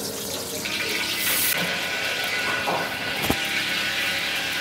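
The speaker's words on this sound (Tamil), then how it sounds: "3 லிட்டர் ஆயில் நம்ம வந்து இந்த பாத்திரத்தில் ஊற்றணும்." Three litres of cooking oil pour into a large heated pot in a restaurant kitchen making Vaniyambadi mutton biryani: a steady, close liquid gush with a brief metallic clank near the end, and no talking.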